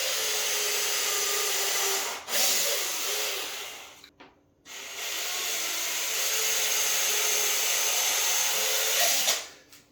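Power tool cutting a frame out of a white plasterboard panel for a built-in range hood, a loud steady whine running continuously, stopping briefly midway, then resuming until the end.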